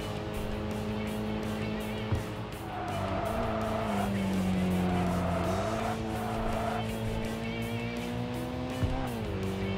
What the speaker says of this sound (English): that's why it feels like it accelerates so much quicker than any other car I've driven in this game.